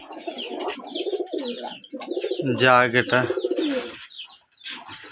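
Rajshahi Giribaz pigeons, female birds with heavily feathered feet, cooing in low throaty rolls close by, mixed with someone speaking over and between the calls.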